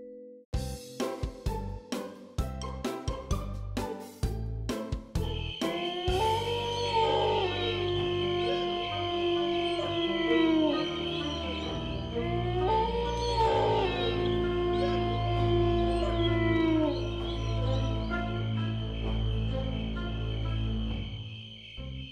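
A cartoon snow dog howls in long, wavering, rising and falling tones, two drawn-out howls over a low rumble, following a string of sharp clicks.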